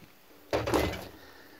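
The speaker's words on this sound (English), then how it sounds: "Good solid wood doors too." A solid wood interior door aboard a 1988 Chris-Craft 500 Constellation yacht is moved once, giving a single close, fairly loud knock and rattle that fades over about a second, with no voices.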